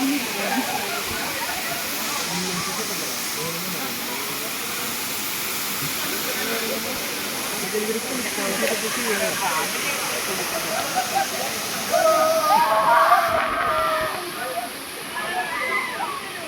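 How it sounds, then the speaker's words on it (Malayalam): A steady roar of falling water from a waterfall in Ernakulam, its flow reduced outside the rainy season, rushes continuously, with a brief louder surge of splashing partway through. "മഴക്കാലമല്ലാത്തത് കൊണ്ട് തന്നെ വെള്ളച്ചാട്ടത്തിൻ്റെ ഫോഴ്സ് കുറവായിരുന്നു"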